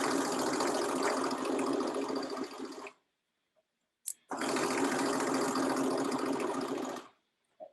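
A sewing machine stitches a seam on a lined dress from the hem upward, two steady runs of close, busy whirring separated by a quiet pause and a brief click.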